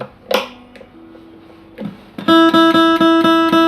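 An Ovation CP247 acoustic guitar being tuned: single plucked strings ring out one at a time, then repeated strums of a harmonic-rich chord sound close and clear, steady and unhurried.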